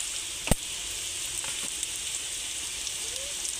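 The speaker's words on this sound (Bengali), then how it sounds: "এবার আর কিছুক্ষণ আমি ভেজে নেব, পেস্টটাও লাল হয়ে যাবে, তাতে আলুগুলো আরও লাল হয়ে যাবে।" Potatoes frying in a red spice paste with turmeric in a pan, giving a steady soft sizzle with a brief stir knock and faint background noise.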